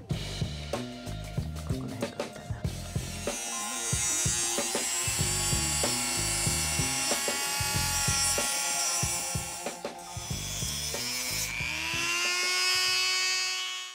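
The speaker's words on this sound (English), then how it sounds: "The Airgon grips, they have a plastic inner sleeve, so I'm going to use the Dremel and cut it nice and clean." A Dremel rotary tool cuts through the plastic inner sleeve of a bicycle grip for a Brompton, a close, continuous high-pitched buzzing whine with brief stutters as the bit bites into the plastic, running alone without talk.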